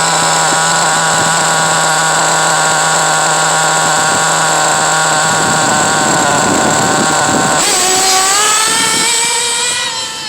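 A Pico P3 motorcycle engine, geared with a 16-tooth sprocket, revs loudly at full throttle with a sustained close-up drone that shifts sharply in pitch partway through, then eases off at the end.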